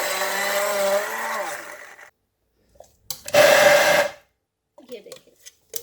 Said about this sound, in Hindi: अब मैं इसको ब्लेंड करती हूँ।